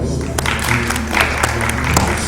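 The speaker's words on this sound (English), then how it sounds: "Round of applause for him, please." A round of applause at the Ghana Internet Governance Forum 2015, a loud, continuous wash of clapping from the audience over a steady low hum for about two seconds.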